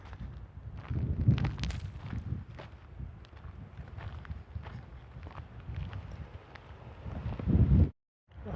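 Wind blows through an empty juniper forest, a steady rushing roar with buffeting gusts on the microphone that swell louder near the end before a brief cutoff.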